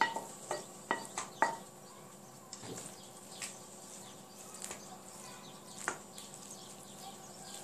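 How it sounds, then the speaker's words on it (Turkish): Minced meat sauce is spread over eggplants in a pan, with several clinks and scrapes of a spoon at the start, then quieter intermittent scraping over a faint background hiss. "Hazırladığımız kıyma sosunu patlıcanlarımızın üzerine dökeceğim."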